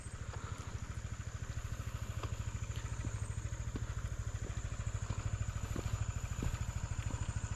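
A scooter climbing a mountain road in Davao de Oro, its engine putting out a steady rapid low throb close by, with occasional clicks and rattles over the running.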